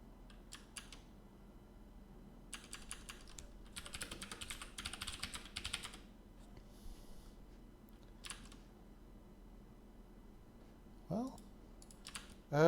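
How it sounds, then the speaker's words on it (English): Computer keyboard typing comes in scattered quiet bursts of clicking keys, with pauses in between and a couple of brief louder sounds near the end, over a low background hum. "as I'm typing it in"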